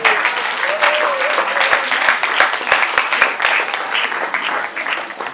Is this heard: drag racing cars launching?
no